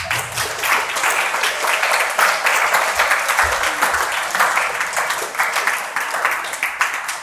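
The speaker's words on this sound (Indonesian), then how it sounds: "tepuk tangan sekali lagi." Junior and senior high school students at an Islamic school event break into sustained, dense applause that fills the room, loud and continuous throughout.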